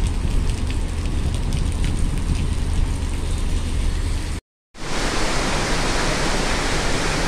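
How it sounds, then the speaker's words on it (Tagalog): Heavy rain pours down in a dense, steady roar, briefly cut off by a moment of silence before the downpour continues just as loud. "Ang lakas ng ulan sa labas."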